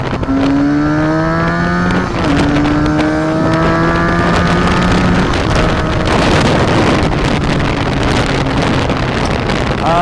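A 2017 SSR 300 fuel-injected motorcycle revs and accelerates through the gears while being ridden, its engine note rising and dropping with each shift under heavy wind noise on the microphone.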